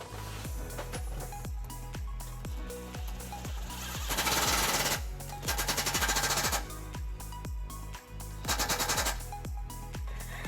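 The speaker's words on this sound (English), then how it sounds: "we're going to use some large self-tapping screws to attach our bracket to our frame" Impact driver with a 13mm socket drives large self-tapping screws through a hitch bracket into the frame of a 2001 Lexus LX470, hammering loud and close in a rapid, steady rattle with short bursts of higher whine and no talk.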